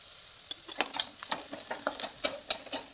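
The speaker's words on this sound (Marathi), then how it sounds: "कांदा छान गुलाबी कलरवर परतून घ्यायचा" Onion and turmeric stirred in a pan for oil-free paneer bhurji, a soft, dry crackle with quick scraping and tapping strokes of a spoon, close, with short bursts rising toward the end.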